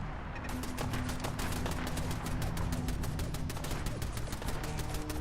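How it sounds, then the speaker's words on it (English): Automated turrets fire in rapid continuous bursts in the Fallout 4 game at the Sanctuary settlement, a dense, steady rattle of gunfire that stays loud and close throughout. "The turret storage setup were firing upon something."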